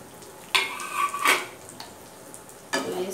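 Spices sautéing in refined oil in a pan for sambar, a close soft sizzle broken by a few scraping stirs and clinks of a utensil against the pan.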